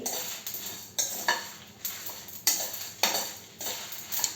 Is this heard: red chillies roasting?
yes